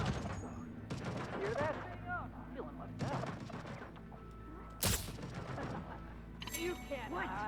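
Hacked turret in the video game Deathloop firing on enemies: bursts of loud gunfire and impacts amid a busy game soundscape, with a sharp crash near the middle and a ringing mechanical tone toward the end.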